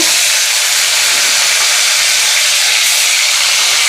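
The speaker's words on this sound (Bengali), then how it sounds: "মাছগুলো ভেজে নিই।" Small fish frying in hot oil, a loud, steady, close hissing sizzle that runs unbroken throughout.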